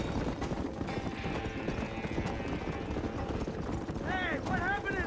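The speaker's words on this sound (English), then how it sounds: "Get on your horse!" Horse hooves galloping in the video game Red Dead Redemption, a steady rapid clatter running throughout under engine-like noise, with a voice speaking briefly near the end.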